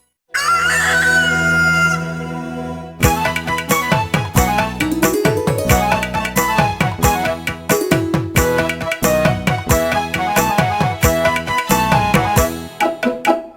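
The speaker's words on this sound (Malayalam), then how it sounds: "കൂവിയറിയിക്കാൻ കോഴി വന്നു" A rooster crows loudly at the start, then a rhythmic Malayalam children's song with sharp percussion takes over and continues to the end.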